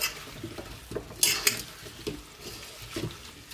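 Homemade lutenitsa mixture stirred in a baking dish, giving soft scraping and clinking of a utensil against the dish in a few separate strokes, close and fairly quiet.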